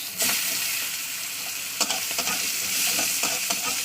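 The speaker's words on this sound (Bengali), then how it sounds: "পেঁয়াজটা লালি করে ভাজতে হবে" A whole onion fries in a pan of hot oil for a potato fish curry. The sizzle is loud and close and continuous, broken by sharp spatula stirs and scrapes, with no talking.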